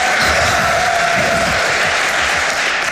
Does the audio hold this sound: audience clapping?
yes